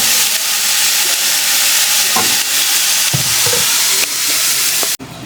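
Quinoa with Bragg liquid aminos, a soy protein seasoning, sizzling in a hot pan while being stirred: a loud, steady frying hiss with occasional scraping knocks, cut off abruptly near the end.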